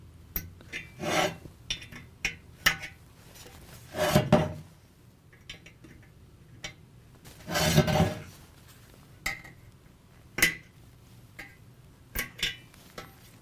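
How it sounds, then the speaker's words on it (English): The plastic snaps of a stator ring are worked loose one by one, making close, short scraping rasps and sharp clicks in irregular bursts with quiet gaps between them. "that's how you can disengage the snaps"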